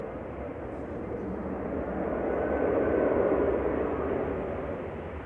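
A Qatar Airways airliner rolls along the runway at Manchester Airport, heard as a steady broadband engine roar that swells to a peak midway and then eases slightly, continuous and fairly loud with no talk.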